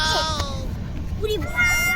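A goat bleats twice in short wavering cries, close by, over a low background murmur.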